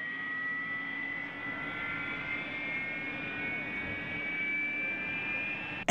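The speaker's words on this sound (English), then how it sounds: "Airplane is flying up." A steady airplane engine drone from the game Air Control holds throughout, a constant jet-like whine and rumble with no talk over it.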